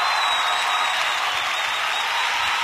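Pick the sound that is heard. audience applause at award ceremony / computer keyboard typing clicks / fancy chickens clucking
audience applause at award ceremony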